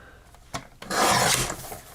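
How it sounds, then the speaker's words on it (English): Craft paper being trimmed with a paper trimmer: a soft click, then a steady rasping slide lasting about half a second that fades out, close and fairly loud. "I'll trim a little bit off this side"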